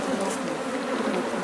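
Dense, steady buzzing of many gentle honeybees at an apiary with hives, continuous and close with no pauses, and no talking.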